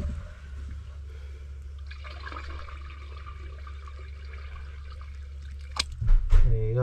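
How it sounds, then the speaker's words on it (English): Toilet flush pushing water through a clogged drain line with a back pitch, a steady low rush of water that swells into louder gurgling surges near the end, close up. "Here comes the flush."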